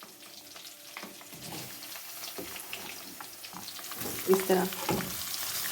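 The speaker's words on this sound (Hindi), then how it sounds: "प्याज डाल के इसको अच्छी फ्राई कर लेते हैं" Onions fry with garlic and a piece of cinnamon in a pan for aloo methi, giving a soft steady sizzle with stirring scrapes and a brief clatter, under a few quiet spoken words.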